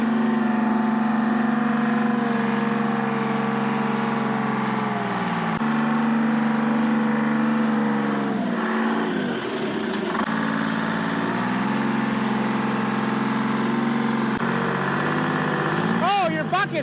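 An old, abandoned Michigan wheel loader's engine runs steadily close by, a rough droning idle with a brief dip and recovery in the middle before settling back to its even throb.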